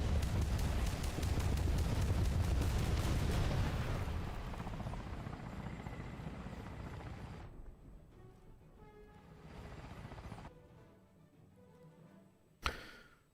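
Helicopter in the War Thunder game: a loud rotor roar dominates early, then fades into a quieter engine whine with a sharp burst near the end.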